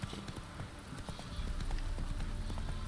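The horse Roach trots in The Witcher 3, its hooves clip-clopping in a steady, fairly quiet rhythm over an outdoor ambient game background.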